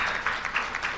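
A room full of guests claps briefly to acknowledge the CCM chairman at a democracy stakeholders' meeting, a short burst of dense, even applause.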